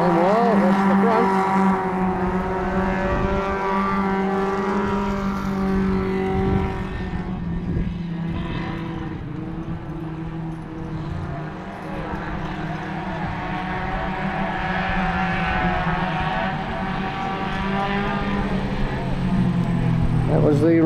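Sedan race cars lapping Cullen Bullen Speedway during an all-sedan race meeting, with loud, sustained engine roar and harmonic whine rising and falling as cars pass, and a voice talking over it.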